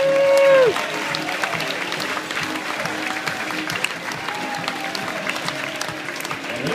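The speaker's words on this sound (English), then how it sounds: "A round of applause for Executive Chef Rio!" A cruise-ship audience applauding an executive chef, a full, steady round of many hands clapping that holds throughout, after a short cheer at the start.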